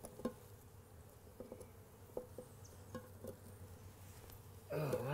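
Honey bees hum faintly around a hive being fed sugar water, a low steady drone dotted with small clicks and taps, and a louder rustling burst close by at the very end.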